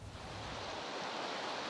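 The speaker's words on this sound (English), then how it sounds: "The speed of this rushing water you're seeing behind me gives you a sense of the volume here." Rushing floodwater in a Northern California town, a dense continuous roar of broadband noise with no voices.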